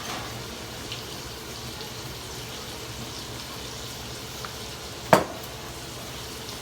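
Sausage sautéing in a pan as its fat renders out, giving a soft, steady sizzle throughout with one sharp clack of a utensil near the end; no voices.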